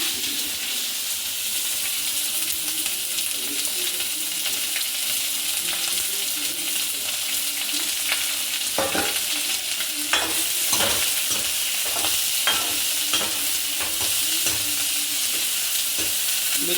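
Chopped onion frying in a pan while a spoon stirs it, a steady sizzle with a series of sharp scraping clicks in the second half, no voices present.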